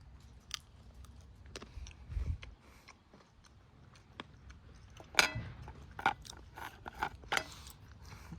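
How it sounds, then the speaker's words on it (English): Biting and crunching MRE crackers topped with a sweet spread from a Lithuanian field ration, scattered crisp crunches and soft chewing close to the mouth, with a few sharper cracks partway through. "So let's take a bite of this."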